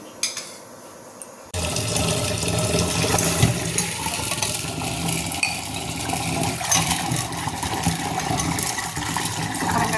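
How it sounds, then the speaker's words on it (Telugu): Lentils being washed in water for a payasam, with steady splashing, sloshing and pouring close by that keeps going after a quieter opening, and the clatter of grains against a vessel. "కడిగి నానబెడదాము తొందరగా ఉడికిపోతాయి"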